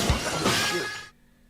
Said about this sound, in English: we got our glass breaking back, bro